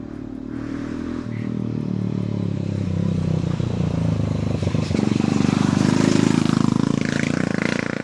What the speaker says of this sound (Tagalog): Ay narinig nyo guys, may motor.